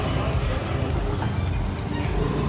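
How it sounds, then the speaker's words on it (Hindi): Heavy night-time road traffic on a dusty Delhi street, a dense continuous rumble of engines and passing vehicles with faint voices mixed in. "इतना ज़्यादा ट्रैफिक है, इतना धूल मिट्टी उड़ रही है कि मुश्किल हो जाता है।"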